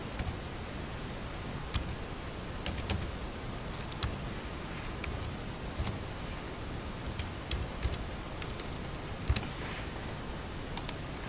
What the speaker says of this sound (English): Now I want to type in my KRA pin.